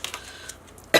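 A single sharp, loud cough bursts out right at the end after a stretch of quiet room tone, close to the microphone, during a papercraft session.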